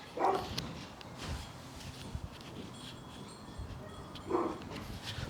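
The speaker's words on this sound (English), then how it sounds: "The dog's going crazy." A dog barks excitedly indoors with two sharp bursts, one at the start and one near the end, separated by scuffling and quieter whimpering noises, at a moderate distance.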